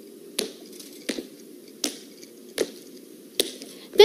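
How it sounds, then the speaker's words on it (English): Footsteps of normal walking land at an even, moderate pace, with about six distinct steps over a faint background hiss. "Let's see, there's normal walking,"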